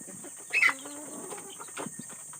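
A chicken outdoors giving a couple of short clucks, close and fairly clear over a quiet background hiss, with small faint rustles between the calls.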